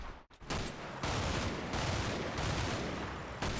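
Dense gunfire and explosive weapon fire in the Combat Mission: Battle for Normandy war game, a steady loud barrage that carries on almost unbroken with heavier bursts near the start and end.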